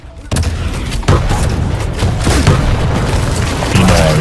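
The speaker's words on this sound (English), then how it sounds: "Got hit by somebody else with a rocket." Rocket explosions and weapon fire from the Quake Champions arena shooter crash loudly and continuously, with repeated booms and bursts layered over game noise.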